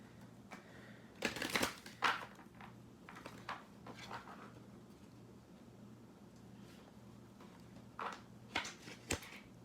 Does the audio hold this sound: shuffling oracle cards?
yes